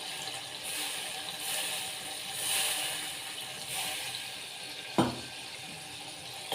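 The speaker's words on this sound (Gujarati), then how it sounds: "થોડુંક નાખશું પાણી" Water poured into a pan of stuffed eggplant cooking with chili powder, turmeric and salt gives a soft, even sizzle and hiss, fairly quiet, with a brief clink near the end.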